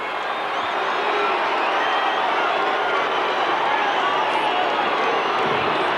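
Large crowd at the 1985 Hawthorn versus Essendon night grand final football match in cold Melbourne, a dense, continuous roar of cheering that holds steady and loud throughout.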